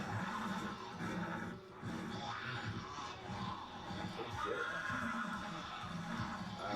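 Horse neighs and whinnies amid the thud of hooves from a horseback scene in The Walking Dead, a busy, dense mix of animal cries and movement running steadily throughout.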